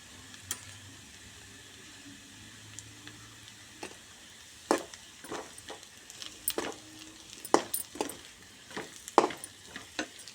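Potatoes fry over high heat in a pan, a faint steady sizzle broken by sharp irregular clicks and taps of a spoon or spatula against the pan, growing busier toward the end, with no voices.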